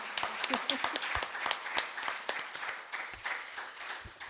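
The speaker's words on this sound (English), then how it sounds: "Let's give her another round of applause." A church congregation at a Sunday service applauds, scattered claps forming a moderate, steady round heard at a distance while voices talk over it.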